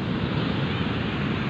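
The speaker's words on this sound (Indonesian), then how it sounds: "Ombaknya gede banget ini guys" Big ocean waves roll in at Karapyak beach in Pangandaran, West Java, a loud, steady wash of surf mixed with wind buffeting the microphone, with no voices.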